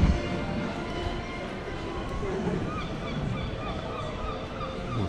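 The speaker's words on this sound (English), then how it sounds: "Oh God, here are the seagulls." Seagulls call in a busy outdoor setting in London, with honking cries rising over steady crowd and traffic noise.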